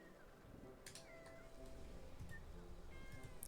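A cat meows in the video game Wytchwood, with a few short mewing calls over quiet ambient game sound at low volume.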